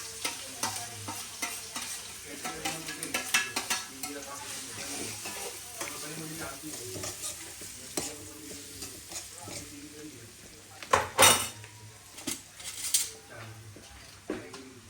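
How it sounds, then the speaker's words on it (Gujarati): Chopped onion frying in a pan with turmeric, giving a soft sizzle broken by repeated stirring scrapes and clinks, with a few louder knocks near the end and faint speech. "પછી મેં ઓનિયન ચોપ કરી છે ને એ નાખી દેવાની."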